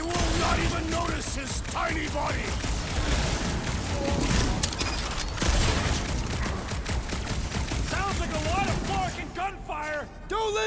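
Rapid gunfire and explosive bursts in the Guardians of the Galaxy video game, a dense, continuous barrage of shots and impacts layered under character voices and game music throughout.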